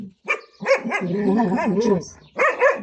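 A dog gives a few sharp barks and yips in quick succession, close and loud, with a short whimpering edge between them.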